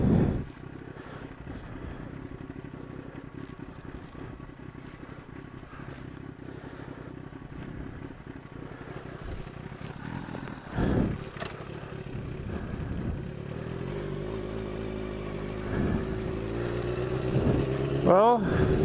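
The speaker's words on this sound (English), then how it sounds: "We'll let it warm up a little bit." A 2000 Kawasaki ZX6R motorcycle idles steadily while warming up, a continuous close engine drone with a brief rev near the end, with a person talking over it at times.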